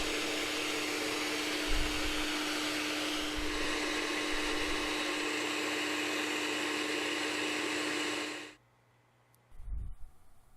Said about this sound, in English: Now I'm using a 600 grit face wheel to chamfer the edges of the blanks